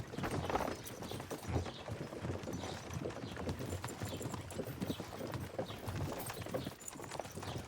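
Horse hooves clip-clop steadily on the ground in the medieval game Kingdom Come: Deliverance II, a continuous close, even trotting rhythm with no talking over it.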